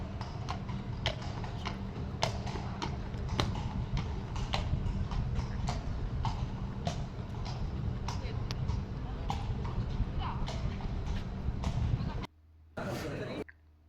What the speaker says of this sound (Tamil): ஸோ குதிரையில் போயிட்டுருந்தாங்க.